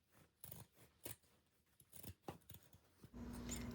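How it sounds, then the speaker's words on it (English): Pinking shears cutting a cotton fabric holiday stocking along the seam allowance, a series of close, crisp snips in an irregular rhythm, ending in a longer rustle of fabric being handled. "Using my pinking shears"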